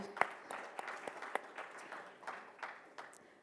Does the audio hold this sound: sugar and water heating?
no